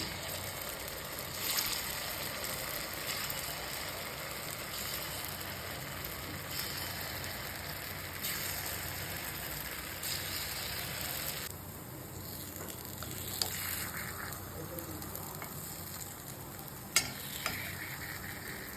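Millet paniyaram batter sizzles quietly in ghee in a paniyaram pan, a faint, steady frying hiss with occasional small clicks and taps.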